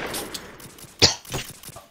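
Gunfire in the video game Garry's Mod during a school roleplay: a few sharp cracks, with one loud close shot near the middle and fainter scattered bursts around it.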